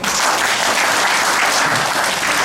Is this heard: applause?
yes